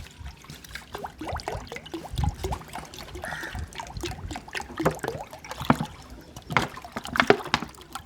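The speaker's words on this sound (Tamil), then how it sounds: "மஞ்சள் போட்டு இப்போ தண்ணியை நம்ம கலந்து வச்சிடலாம்." Water with turmeric being stirred and mixed for pigeons, with irregular splashing and trickling sloshes, close and moderately loud, without talk.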